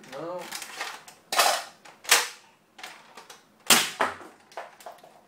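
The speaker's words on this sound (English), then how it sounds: "these are firing really, really hard" A modded Nerf LongShot blaster with a PETG breech fires foam darts, giving several sharp, close snapping shots spaced irregularly with mechanical clacks between them.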